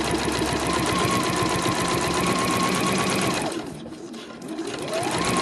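A sewing machine stitches a fabric dust bag for espadrilles through several layers at the seams. The motor whirs loudly and steadily, briefly slows and quiets mid-way, then picks back up.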